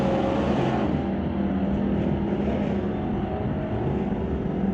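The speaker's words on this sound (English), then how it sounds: "A liftoff for both of those cars." Two drag race cars launch together at an electronics bracket event, one a 1999 Camaro with a 408 LS, producing a loud, steady engine roar that holds strong throughout.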